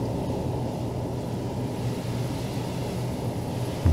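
A modded FA-18 Hornet fighter-attack jet in Microsoft Flight Simulator, a steady, low engine roar droning evenly throughout, loud and close with no break.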